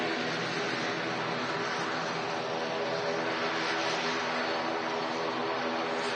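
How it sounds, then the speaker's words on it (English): A Loganair ATR 72 turboprop departs Manchester Airport, its engines a loud, steady, broadband roar with a droning hum that holds evenly throughout with no talking. "Logan Air Flight 692 heading off to the Isle of Man. ATR 72."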